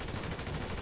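A brief, dense rattle of gunfire in GTA Online, loud and continuous for under a second, with no speech.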